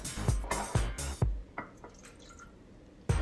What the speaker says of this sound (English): here I'm pouring some into a larger bowl